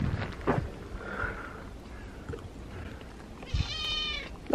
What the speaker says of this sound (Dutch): Dag poes in de sneeuw.